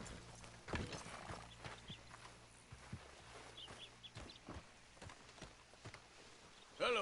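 Horse hooves clip-clop faintly in the Red Dead Redemption 2 video game, soft scattered thuds over a quiet background ambience.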